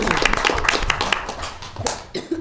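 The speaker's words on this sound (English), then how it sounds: "I think that calls for a round of applause." A short burst of clapping from a group at a Lancaster County Board meeting, dense and steady for a couple of seconds.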